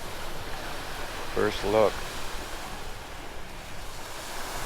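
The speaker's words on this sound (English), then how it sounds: "Here's the Atlantic Ocean." Atlantic Ocean surf on the Outer Banks of North Carolina, a steady broadband wash of waves with wind noise on the microphone, and a brief spoken remark over it near the start.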